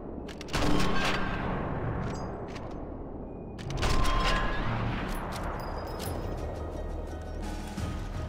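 Two loud, booming rifle shots in the video game Sniper Elite 4 ring out a few seconds apart, each followed by a long rumbling echo and tail of game noise.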